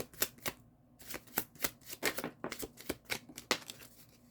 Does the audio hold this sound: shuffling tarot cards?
yes